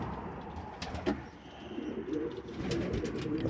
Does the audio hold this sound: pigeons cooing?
yes